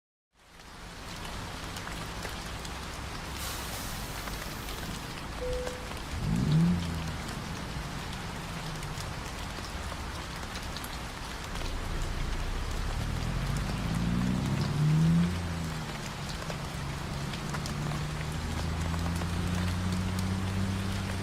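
Heavy rain patters on a truck in American Truck Simulator during an Alaska ice road haul, a constant dense downpour with low engine rumble and a couple of swelling passing whooshes beneath it.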